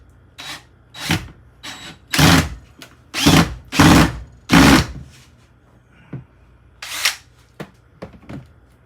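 A drill drives a drywall screw into a wall with no stud behind it, heard as several loud, separate bursts of whirring close by, with short pauses between them and a final quick burst.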